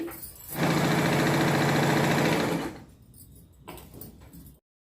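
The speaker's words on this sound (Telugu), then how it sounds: "ఇలాగా కుట్టు వేసేసామండి" A sewing machine runs a fast burst of stitching on patiala pant fabric, a loud, steady whirring lasting about two seconds and then stopping, followed by quieter handling sounds before silence.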